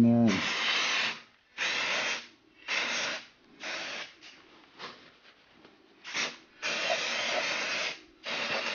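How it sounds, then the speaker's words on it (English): Aerosol spray onto a two-part silicone mold: a series of close, loud hissing bursts of about a second each, separated by short pauses, with faint background sounds between them. "And I'll spray it down real fast"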